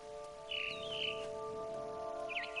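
A mother bird chirping in the video game What Remains of Edith Finch, two short chirping calls, the second near the end, over a steady low tonal hum, no voices.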